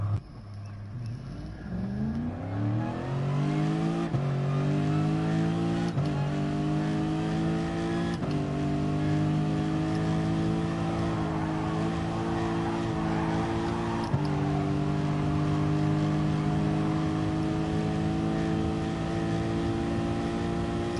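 Race car engine in GT Sport, pulling steadily through the gears: a sustained rising whine that drops briefly at each shift and climbs again, loud and continuous with no talking over it.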